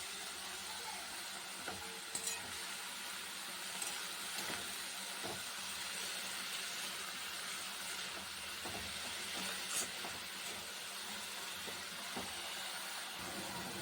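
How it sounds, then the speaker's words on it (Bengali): Saag greens fry in hot oil with a faint, steady hiss and soft sizzle, broken by a few quiet stirring taps, all at low volume. "এই দেখো শাকটা ভাজা হয়ে এসছে"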